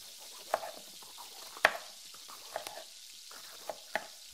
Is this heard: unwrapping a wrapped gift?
no